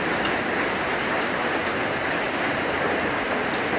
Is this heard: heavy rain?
yes